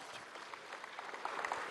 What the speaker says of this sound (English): we should all do a massive round of applause for her